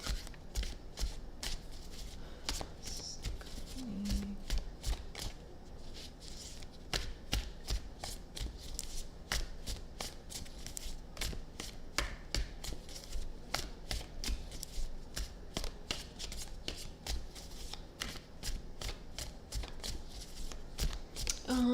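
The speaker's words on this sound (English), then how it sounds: "shuffling, you guys have to remember this about tarot cards." Tarot cards are shuffled close up in a long run of quick, crisp riffling flicks and soft card slaps, steady and rhythmic throughout, with faint background sound.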